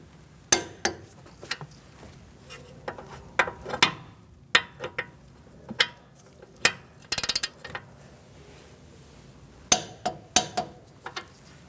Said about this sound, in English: Let's torque this to 84 foot-pounds.